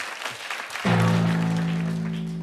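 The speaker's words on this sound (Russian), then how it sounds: "Эти аплодисменты тебя поддерживают." Audience applause in a hall during a comedy contest show, starting abruptly after a near-silent moment and then holding steady and loud with a sustained tonal hum mixed underneath.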